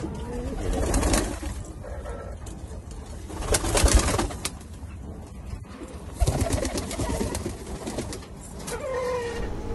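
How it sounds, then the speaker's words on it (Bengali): Pigeons coo repeatedly nearby as they flutter down one by one to be fed, their soft calls coming in bursts with some wing and shuffling noise around them. "এখন একটা একটা করে সবগুলাই নামবে কবুতর।"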